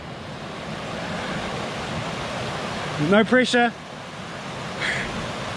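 A river rushes steadily during a river crossing on the Te Araroa trail in New Zealand's Richmond Ranges, a constant broad wash of water and wind, with a brief spoken remark partway through.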